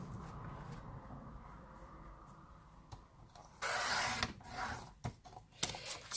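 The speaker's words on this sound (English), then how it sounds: "I'm going to trim it out with my trimmer" A paper trimmer slices through craft paper in one brief, loud cutting swipe midway through, followed by a few small handling clicks against a quiet room background.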